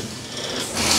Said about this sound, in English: I lost count on how many screws he's pulling out of here.